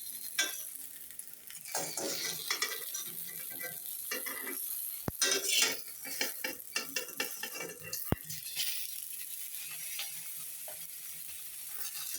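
Metal utensil scrapes and clinks against a pan while fried eggplant slices are lifted out, with scattered irregular clatters, a couple of sharp knocks and faint sizzling underneath, close and without talk.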